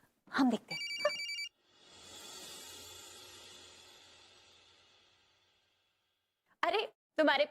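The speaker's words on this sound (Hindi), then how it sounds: "अरे तुम्हारे पापा का फोन है" A telephone rings in a home with a short electronic trill, followed by a long fading swell of sound, with a voice speaking before and after.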